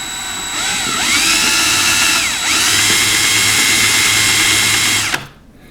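A Smart Fortwo cooling fan motor spins steadily while held against sandpaper, giving a loud, even whine that dips briefly as the load changes, then cuts off abruptly near the end.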